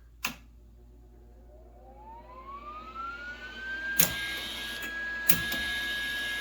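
A Lincoln 140 Weld-Pak welder's wire-feed motor spins up with a rising whine that levels into a steady hum, with a few sharp clicks and knocks over it, fairly faint and alone.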